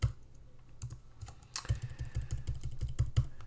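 Fingers type C++ code on a computer keyboard, a fast, uneven run of close, crisp keystrokes with short pauses between bursts and no talking.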